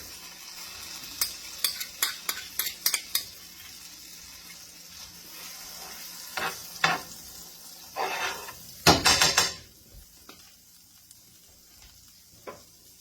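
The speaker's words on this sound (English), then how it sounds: "the first thing we're going to add to the skillet is the butter and the minced garlic" Butter and minced garlic paste cooking in a skillet, with quick clinks and scrapes early on, a low sizzle underneath, and a louder burst of scraping and sizzling near the end before fading to quiet.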